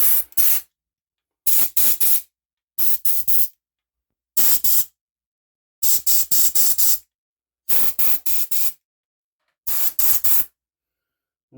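Compressed air blasts out Stihl MS181 chainsaw parts in seven loud, hissing bursts, each a cluster of quick rapid-fire puffs separated by short silences, with no talking.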